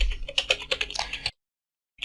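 Quick, uneven keystrokes clatter on a computer keyboard, close and crisp for about a second, then stop into silence before one more tap.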